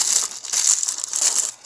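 Tissue paper crinkles and rustles in several close, bright bursts as it is unwrapped from around a toy doll's shoes, with no talking.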